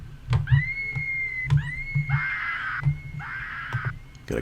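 Sampled screams from a scream pack rise and hold in repeated long cries over a punchy kick-drum beat in a Suicide Boys-style beat made in Logic Pro X, each wail cutting off abruptly before the next.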